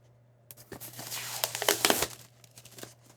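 Cardboard and paper packaging of an AYN Thor dual-screen handheld crinkles and tears as it is opened, a close, busy run of rustles and crackles that swells in the middle and then thins to scattered crinkles.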